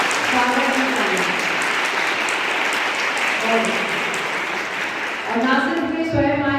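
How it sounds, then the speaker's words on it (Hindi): A crowd at a college event claps loudly and continuously for a tabla performer, a dense, even wash of applause. A voice speaks over the clapping at several points. "बहुत तेज तालियां सुननी है मुझे, बहुत तेज स्वागत की तालियां"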